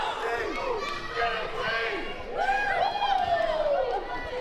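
A capacity crowd at a wrestling event roars and chants in a large arena, a steady wash of noise that builds toward the end, with a commentator talking over it.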